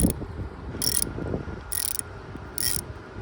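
Broken bolt being backed out by a wrench on a welded-on nut, giving short bursts of ratcheting clicks repeated about four times with quieter mechanical rustling between, close and without speech.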